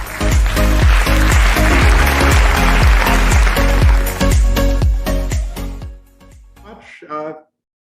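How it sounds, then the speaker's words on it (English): Loud, close applause at a conference, with heavy hand claps filling most of the clip, then tapering off and ending in quiet. "A round of applause to Director Frederick Rick de la Casa Amores."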